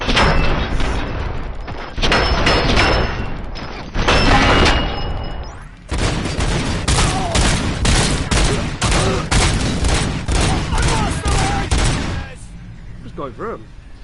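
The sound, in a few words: gunfire in the video game Robocop Rogue City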